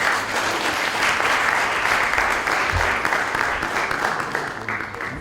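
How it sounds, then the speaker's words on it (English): Audience applause fills a regional leadership conference hall, steady dense clapping from a large crowd held at an even level throughout without a break. "Give yourselves a warm round of applause."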